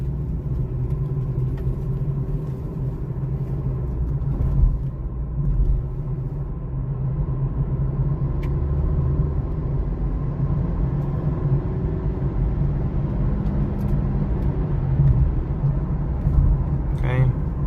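A 2023 Honda CR-V EX-L driving through a roundabout: steady low engine and road rumble heard from inside the cabin, continuous and fairly loud throughout, with faint tyre and wind noise.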